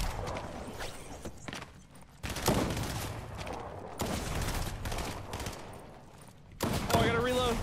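Rapid gunfire bursts in the video game Fortnite, several loud clusters of shots separated by brief lulls, with faint movement sounds between them.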